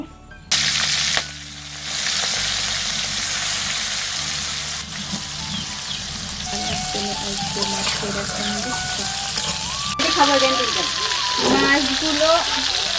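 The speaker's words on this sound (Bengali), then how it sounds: "তেলটা গরম হয়ে গেছে আর আমি মাছগুলো দিয়ে দেব" Fish pieces dropped into hot oil in a home kitchen, a loud continuous hissing sizzle like heavy rain that persists throughout, with brief bumps and a voice speaking quietly underneath.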